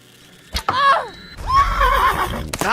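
A horse in the online game Mortal Online whinnies twice in quick succession, loud and close, the second call longer and wavering, with a sharp thud before and after.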